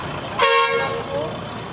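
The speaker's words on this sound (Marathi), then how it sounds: "आणि वरून बसतात तर पाव पॉ करत हॉर्न वाजवत" A car horn gives one short, nasal toot against the low rumble of a nearby traffic jam.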